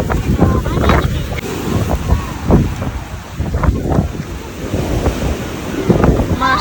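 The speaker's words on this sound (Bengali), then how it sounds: "এই পাশে বেশি ঢেউ আসতেছে দেখো" Ocean waves roll in at Patenga beach in Chattogram with strong wind buffeting the microphone, loud surges of surf and gusts close by, with voices talking over them.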